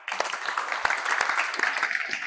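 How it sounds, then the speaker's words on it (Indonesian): A school classroom audience applauds, a burst of many hands clapping with scattered sharp claps over a couple of seconds, close and fairly loud, with some voices mixed in. "Kita aplaus untuk semuanya."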